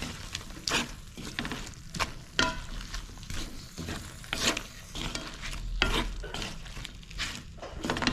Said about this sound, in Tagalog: Ginisa natin siya guys.